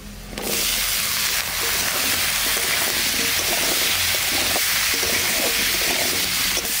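Zucchini pieces frying in hot oil for a fish curry, a loud continuous sizzle and hiss that starts abruptly and holds steady, close and dense throughout.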